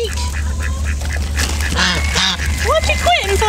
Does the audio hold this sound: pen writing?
no